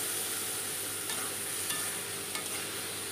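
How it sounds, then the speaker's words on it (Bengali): Spice paste frying and sizzling steadily in oil while being stirred for a pomfret fish curry, a continuous close crackle with a few faint scraping touches and no talking. "ভালো করে আমি নাড়াচাড়া করে নিচ্ছি।"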